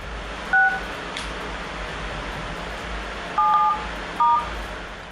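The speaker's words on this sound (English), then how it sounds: "this phone apparently waits until Michael is almost finished recording and then hits a completely different number" Three short telephone keypad tones beep at separated moments over a steady hiss of background noise.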